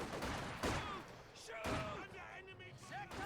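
MG 42 machine gun fire in a Company of Heroes 2 battle between Wehrmacht and Soviet forces, with sharp loud bursts and thuds repeating amid battle noise while a voice commentates over it.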